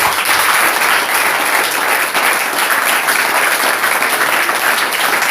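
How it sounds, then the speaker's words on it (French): A congregation in a church hall breaks into applause during a French-language sermon. Many hands clap in a dense, steady roar that stays loud and even throughout, with no voices rising above it. "ça c'est l'applaudissement pour cela"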